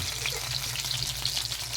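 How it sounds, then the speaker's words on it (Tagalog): Galunggong (round scad) fish sizzles in hot oil in a pan, a dense, continuous crackle and spatter heard up close with no talking. "Ito, nagpiprito po tayo ng galonggong."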